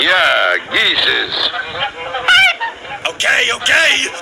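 Geese in an old cartoon give a loud, busy stretch of squawky, bending honks, several overlapping and jumbled together, sounding close with no pause over about four seconds.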